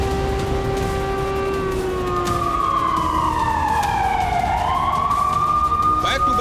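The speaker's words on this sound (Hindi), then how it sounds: "तेहरान में एयर अलर्ट के सायरन बजने लगे" Air raid alert sirens wail across Tehran, a sustained rising and falling electronic tone that sweeps down and back up, fairly loud and slightly distant over a constant low background of street noise.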